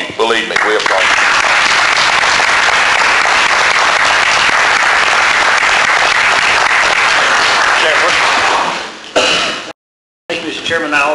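Loud, dense applause fills a board of regents meeting room, a continuous roar of many hands that stays steady before briefly cutting out, with voices mixed in.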